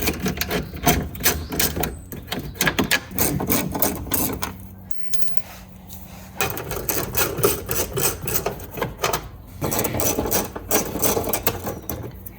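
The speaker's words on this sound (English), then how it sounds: "I have a regular size ratchet and an extension and an adapter" A regular-size ratchet with an extension and adapter works the bumper bolts on a 2012–2016 Porsche 991.1 Carrera 911, giving rapid close clicking bursts with a short break in the middle.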